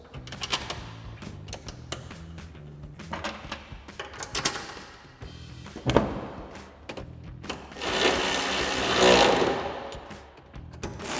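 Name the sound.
reinstalling two 10mm bolts on Tacoma tail light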